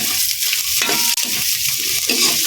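Ginger and other aromatics sauté in a hot pan with a steady, close sizzle, broken by the brief scrape of stirring.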